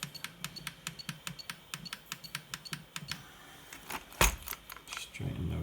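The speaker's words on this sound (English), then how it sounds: "So we're going to click it to the right." Small plastic clicks from the steering trim button on the handset of a Kyosho MP9 TKI4 V2 readyset RC car tap out in a quick regular series, close and faint, then give way to a louder knock and a short rustle.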